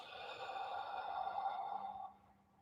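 A long, breathy exhale through an open mouth, steady and airy for about two seconds, then trailing off into quiet.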